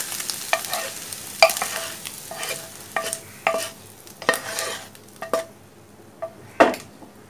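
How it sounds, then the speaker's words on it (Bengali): Cabbage and egg are stirred in a frying pan, with repeated scraping and clinking strokes of a utensil against the pan over a soft, ongoing sizzle. "খাবার একটু নাড়তে হবে।"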